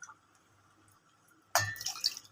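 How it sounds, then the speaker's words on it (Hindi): Water is poured into curd in a bowl: a sudden splashing gush of liquid starts after a quiet pause and continues briefly, close and fairly faint. "तो उसमें पानी डाल के और इसमें डाल देंगे पानी"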